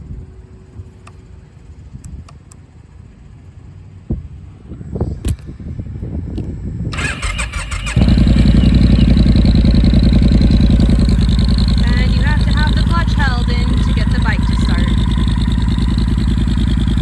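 2020 Triumph Bonneville Speedmaster motorcycle at a dealership: a few clicks and knocks, then the starter cranks and the engine catches into a loud, steady, close idle with a throbbing low rumble.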